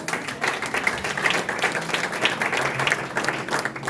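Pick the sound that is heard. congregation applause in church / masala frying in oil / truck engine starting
congregation applause in church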